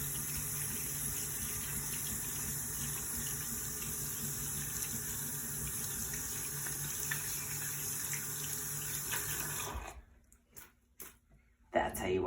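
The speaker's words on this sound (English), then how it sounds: "turn the water back on" Water runs steadily from a sink tap during handwashing, a continuous close hiss lasting most of the stretch before cutting off abruptly, followed by a few brief splashes and drips.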